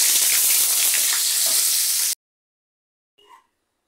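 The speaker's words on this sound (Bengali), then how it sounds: "এবারে ভেজে নেব।" Pointed gourd pieces sizzle loudly and up close in hot oil for about two seconds, then the sound cuts off abruptly to silence, with one brief faint tone shortly after.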